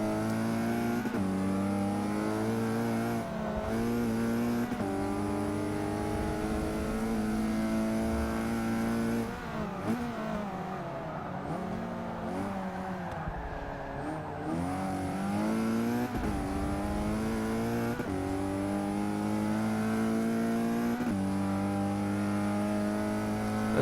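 Car engine in the Forza 6 racing video game, a sustained revving drone with rising and falling pitch across the whole stretch, loud and steady with brief shifts in tone midway.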